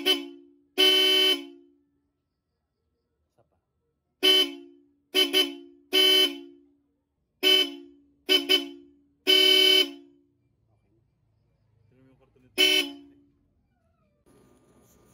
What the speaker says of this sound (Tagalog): Sunod naman natin yung original Europa Horn decibel meter testing.